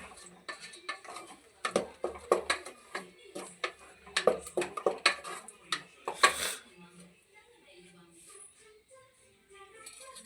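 Clinking of a utensil against a cooking pot while chicken curry (kulambu) ingredients are mixed, a run of sharp scraping knocks and taps in the first six seconds, then quieter, with soft background noise.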